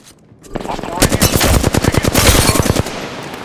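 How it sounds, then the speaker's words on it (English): Rapid bursts of automatic gunfire from a shooter video game, loud and close, rattling in a dense rhythm for about two seconds before cutting off. "I'm taking the shot."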